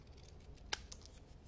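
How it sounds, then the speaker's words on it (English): Scissors snip once through the bottom of a folded paper card, a single crisp, close cut in an otherwise quiet room. "take those scissors and chop off the bottom to create a flat surface"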